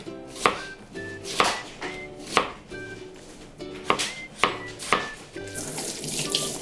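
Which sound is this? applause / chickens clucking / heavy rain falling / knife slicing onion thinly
knife slicing onion thinly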